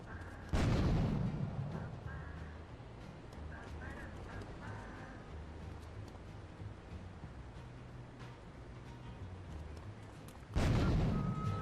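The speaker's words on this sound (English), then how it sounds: "throw a grenade into the window of the apartment" A grenade thrown through an apartment window in Grand Theft Auto 3 Definitive Edition: a sharp, loud blast, then a stretch of quieter in-game ambience, then a second heavy burst near the end.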